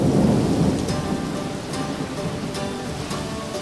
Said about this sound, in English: Two days ago it rained and rained.